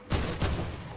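Two quick bursts of gunfire in the video game Fortnite, loud and close, each a sharp broadband crack followed by a short decaying tail.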